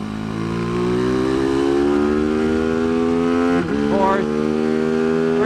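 A Tianda TDR300 race motorcycle revs hard on the track at Mission Raceway, its loud engine note climbing steadily, dipping briefly at a gear change, then climbing again.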